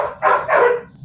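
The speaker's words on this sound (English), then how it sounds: "So I don't know what they barking at, but they heard something and they're trying to protect me from it." Dogs bark outside, two loud close woofs in quick succession within a second, with no talk.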